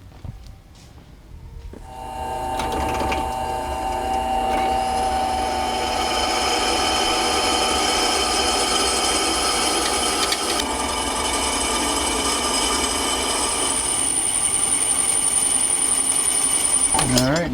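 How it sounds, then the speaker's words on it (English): A drill press bores holes through a horseshoe for traction pins, its steady motor whine starting after a quiet moment and running loud and continuous with a grinding, rattling edge. "I'm going to go to the drill press, drill the holes"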